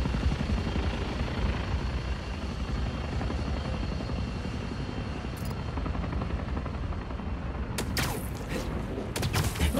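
Steady helicopter rotor thrum in the video game Spider-Man 2 on PS5 fills the whole stretch, loud and constant, with a few sharp bursts like gunfire near the end.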